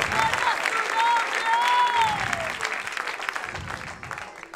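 A church congregation applauds steadily while a voice rises above the clapping, then the claps thin into scattered bursts.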